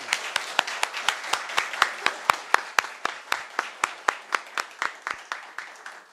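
A symposium audience gives a round of applause for a professor, a thin set of distinct, evenly spaced claps, a few hands at close range, running steadily throughout.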